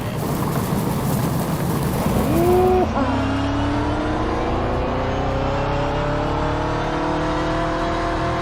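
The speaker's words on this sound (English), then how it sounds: "I'm pretty sure you guys can still hear me over the car sounds, right?" A car engine in the DayZ survival game drones loudly as the vehicle drives, with a quick rev and gear change before settling into a steady, rising hum, and a voice speaking briefly over it.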